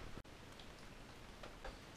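Steady rain falls outside at a rural barn conversion under renovation, a dense even hiss with a few brief louder spatters and no voices.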